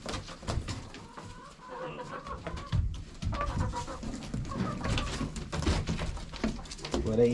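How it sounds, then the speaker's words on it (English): Farm chickens cluck and chatter around a homestead feeding area, a busy mix of bird calls close by, with a person talking over them throughout. "Chickens clean up the rest."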